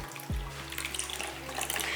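Warm water runs from a tap into a bowl of soaking ingredients while making chole poori in a home kitchen, a steady close splashing stream that starts abruptly and continues throughout.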